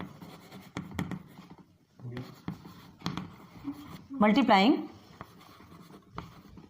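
Chalk or a marker scratches out an equation on a board in short taps and strokes, close by, while someone speaks over the writing throughout.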